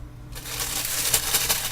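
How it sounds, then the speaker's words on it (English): Packaging from a Yeti microphone unboxing being crumpled up close, a loud crackling rustle that starts abruptly and continues with sharp crinkly bursts over a low hum. "crumpling all this stuff, I know it's going to sound horrible"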